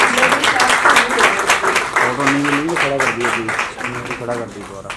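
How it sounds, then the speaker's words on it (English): Loud applause from a nearby audience fills the moment, with people talking and calling out over the clapping. "Can we have a big round of applause, please?"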